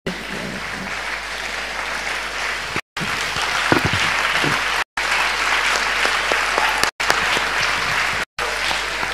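A church congregation stands and claps in a loud, sustained round of applause, with voices faintly beneath it and several short cuts breaking the sound.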